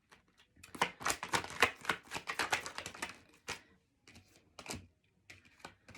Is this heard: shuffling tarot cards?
yes